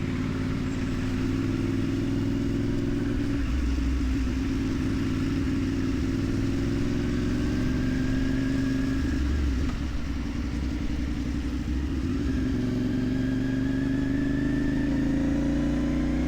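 A 450NK motorcycle engine drones steadily while riding, a continuous loud road hum with mild shifts in pitch as the bike speeds up and settles.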